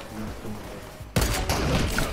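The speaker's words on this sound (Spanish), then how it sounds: "Ah, fui yo, disparé por accidente." Gunfire in the video game Fortnite: a sudden loud burst of shots cuts in after a quiet stretch and rings on for about a second, with a second hit shortly after.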